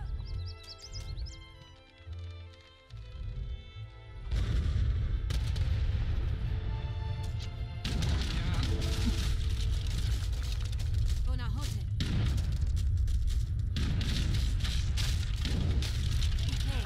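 Cannon artillery fires in Age of Empires III during a naval battle: a rapid string of loud, booming blasts crowds in after a quieter opening, heavy and continuous, with a voice speaking over it.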